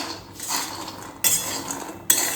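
Peanuts frying in a pan, being stirred with a utensil, giving a faint background rustle broken by three sharp bursts of clinking and scraping against the metal.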